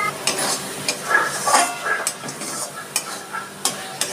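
Spice paste water poured onto chicken in a pan for Bengali chicken kosa, giving a bright crackling sizzle broken up by sharp scrapes and clinks of a spatula stirring, all close up.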